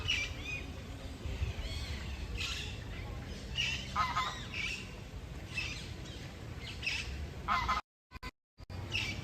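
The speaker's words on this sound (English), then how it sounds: "There's geese being very noisy there." Geese honk repeatedly at a middle distance in Amsterdam's Vondelpark, a noisy overlapping chorus of calls over a low rumbling background, with a brief dropout near the end.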